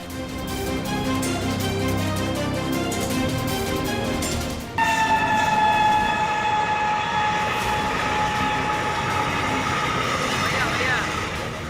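A train passes a railway crossing in India with a loud, steady rumble of wheels and cars. About halfway through, a sustained high tonal whine, horn-like or squealing, rises over the rumble and holds to the end.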